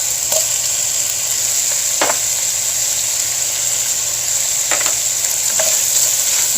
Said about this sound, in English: now we're going to go ahead and add the onion and the garlic.